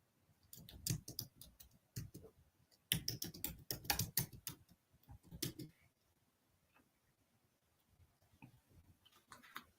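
Bursts of fast clicking on a computer keyboard, close and clear, separated by pauses, with a few scattered taps toward the end and no talking.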